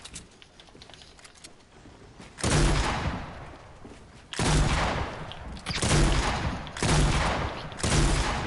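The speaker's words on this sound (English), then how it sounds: "I'm getting shot by both sides." Gunfire in Fortnite Battle Royale comes as loud bursts of rapid shots, each lasting about a second or more, close and harsh, with short quieter gaps between them.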